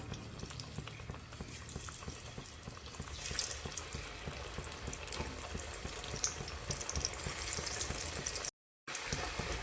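Alu vadi, rolled colocasia leaf pieces, frying in hot oil in a steady, continuous bubbling sizzle that stays close and even throughout, with no talking.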